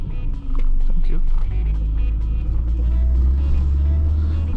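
Mitsubishi Eclipse 3G heard from inside while driving through a stop sign, a steady loud engine rumble that rises as it pulls away, with a voice talking over it.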